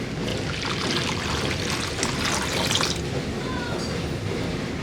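Around 1.5 litres of water poured into ground green chutney to make panipuri water, a continuous splashing pour that is loud and close, then stops near the end and leaves a faint trickle.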